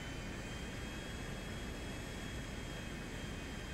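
Steady, loud airplane engine drone in a video game, a constant broadband roar with no breaks or voices throughout.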